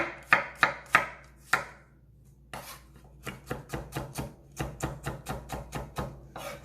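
A knife coarsely chops garlic on a cutting board for beef stew, a few spaced heavy strikes, then a short pause, then a quicker run of rhythmic close chops with no voices.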